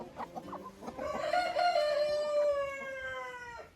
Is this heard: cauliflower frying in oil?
no